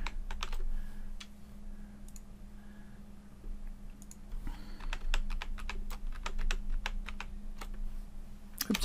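A password is typed on a computer keyboard, with soft, close key clicks coming in short bursts and scattered single taps over a low steady hum.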